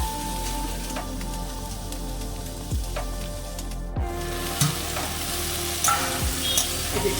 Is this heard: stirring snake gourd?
yes